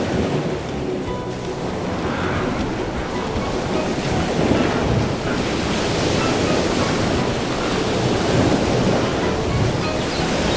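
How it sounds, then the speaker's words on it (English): Strong wind roaring steadily across the mic, mixed with a broad surf-like wash that swells slightly midway and holds loud to the end. "Very windy."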